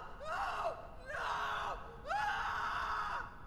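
Screams from the horror video game Silent Breath: three long, loud, wavering cries in a row, each about half a second to a second long, separated by short pauses.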